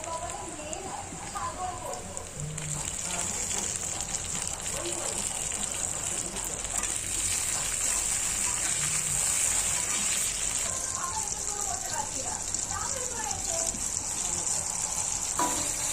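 Chopped onion and tomato frying in a pan, giving a steady, close sizzling hiss throughout with occasional stirring scrapes, while a voice talks faintly in the background.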